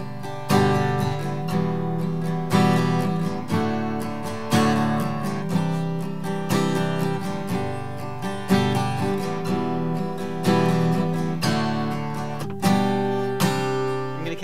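Strummed acoustic guitar playing the intro of a country song, a steady rhythmic pattern of full chords with accented strokes, close and alone.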